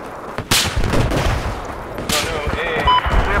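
Battlefield 4 gunfire, two sharp loud shots roughly a second and a half apart, each with a rolling echo, amid game noise and a faint alert tone at the end.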